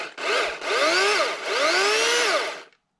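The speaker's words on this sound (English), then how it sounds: "This one happens to be quieter than the two corded chainsaws." A Kobalt battery-powered chainsaw, second generation, runs through two throttle revs, rising and falling in pitch with a smooth electric whine, close and loud, without any talk.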